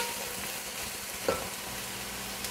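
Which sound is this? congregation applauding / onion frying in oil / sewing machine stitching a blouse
onion frying in oil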